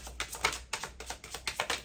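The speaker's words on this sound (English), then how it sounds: "This is a pleasant deck to shuffle" A tarot card deck being shuffled up close, giving a run of crisp papery flutters and taps in quick, uneven bursts with short gaps between them.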